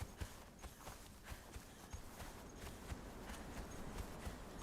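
Horse hooves clip-clopping at a steady walking pace in a video game, the mount slowed by heavy carry weight; regular, fairly faint thuds repeat over a soft broadband background.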